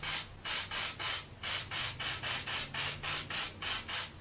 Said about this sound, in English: We're going to take our black spray paint. Now I just get back on an angle and just pulse it.